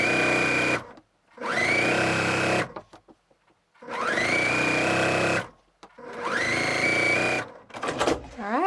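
A sewing machine stitches quilt top pieces together in three sustained runs, each rising to a steady whirring drone and stopping abruptly, with short quiet gaps and light handling noise between runs.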